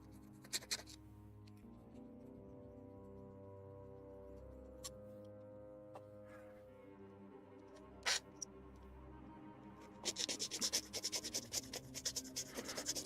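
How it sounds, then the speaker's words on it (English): Light rasping strokes of a hand file across a small plastic part from a Bandai HG 1/144 Gunpla model of the PMX-003 The-O, quiet and close at first, then a denser burst of quick scratchy passes near the end. "You basically rub it without applying pressure. This is how I do it with the file I'm using."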